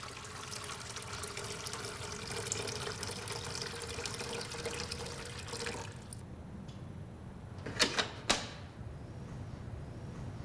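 Water poured into the tank of a Jura Impressa S9 coffee machine, a steady running flow for about six seconds that stops, then two brief drips or clinks after a quiet pause.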